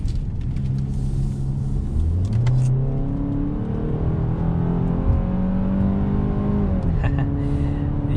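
A 2022 Hyundai Santa Fe SUV accelerates hard in sport mode, its engine note rising steadily through the gears with clear shift drops, heard up close from inside the cabin over a constant road rumble.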